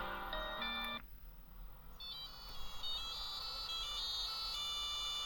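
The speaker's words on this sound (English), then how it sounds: "Holy Nokia. The phone on the desk rang" A Nokia phone rings on a desk in the video game 7 Days of Summer, a quick electronic melody that starts abruptly and repeats in bright, steady tones for several seconds.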